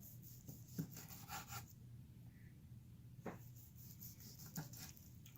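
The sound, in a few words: knife slicing grilled smoked beef tri tip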